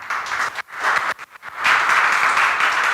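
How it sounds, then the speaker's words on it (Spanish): A church congregation bursts into applause during a sermon, brisk clapping that dips briefly in the middle and then swells back to full, steady strength. "Dale un fuerte aplauso al Señor."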